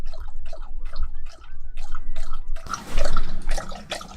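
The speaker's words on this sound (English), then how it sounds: "That's Coop drinking." A pet drinks water inside a DIY Ford Transit camper van, with rhythmic wet lapping repeating several times a second. The close, steady slurping grows slightly fuller toward the end.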